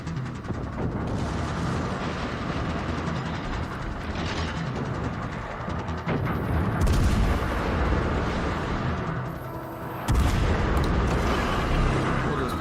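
Warship guns firing shells in World of Warships from the cruiser Riga, with deep booming salvos that sit over a steady rumbling battle background, heard at a loud level with no talking.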